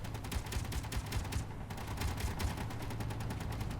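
Sustained gunfire in the space game Space Engineers, rapid repeated shots forming a steady continuous rattle, moderately loud and slightly distant, with no talk.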